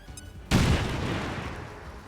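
Grenade exploding in XCOM 2: a single sudden loud boom after a quiet moment, followed by a long rumbling decay.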